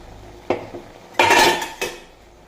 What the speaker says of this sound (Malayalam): 2-3 മിനിറ്റ് തിളച്ചതിന് ശേഷം തേങ്ങ അടിച്ചത് ഒഴിച്ചു കൊടുക്കാം